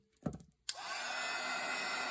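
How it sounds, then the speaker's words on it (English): Hair dryer switched on after a brief click and clatter, then blowing in a steady loud whoosh at close range, used to melt leftover hot glue strings on a craft project. "Just take your dryer and put it on there."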